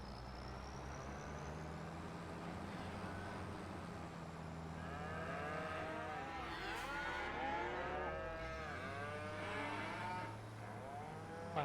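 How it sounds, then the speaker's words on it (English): Cows moo loudly and repeatedly in Farming Simulator 25 on an Irish farm map, long drawn-out calls overlapping over a steady low engine hum of farm machinery. "the cows are being loud today"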